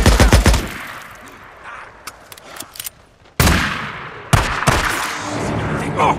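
Rapid bursts of automatic gunfire in the video game Days Gone during a horde fight at Chemult College, loud close shots with sharp blasts, a lull, then renewed heavy firing, with shouting voices.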